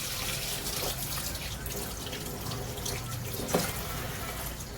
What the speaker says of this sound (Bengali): আমি নিজে হাতে পরিষ্কার করে একটা একটা করে ধোবো